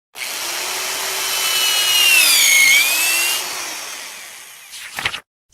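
A steady power drill whir runs for about three seconds, its pitch sagging and recovering under load, then winds down, followed by a couple of short clunks.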